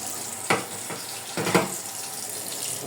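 Running tap water rinses something clean in a sink, a steady close hiss of flowing water with two brief splashing surges, and no talking.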